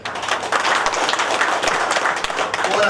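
A meeting hall crowd at the Battery Dealers and Distributors Association's Kasaragod district gathering applauds for about three seconds, with dense, steady clapping from many hands and no pauses.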